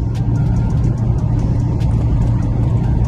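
Fiat Uno with a 1.4 engine accelerating hard on the road, heard from inside the car as a loud, steady, low engine drone with road rumble and no talk.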